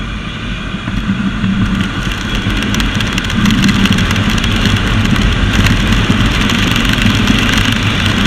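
A Bajaj Dominar 400 motorcycle engine runs steadily and close, a dense mid-pitched drone that lifts slightly in loudness partway through, with no talking.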